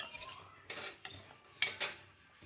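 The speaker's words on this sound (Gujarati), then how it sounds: "હલાવી લીધા પછી આવી રીતે હલાવું છું" A spoon scrapes and clinks against a pan while tindola sambharo, a Gujarati ivy gourd dish, is stirred, several short sharp knocks and scrapes close by with no talking.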